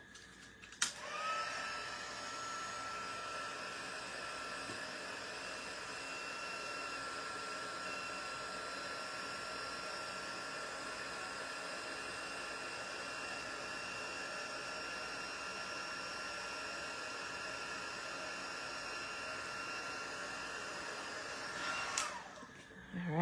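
A heat tool blows steadily to melt clear embossing powder on stamped white paper, a continuous close whirring hum that starts abruptly, holds for about twenty seconds and cuts off.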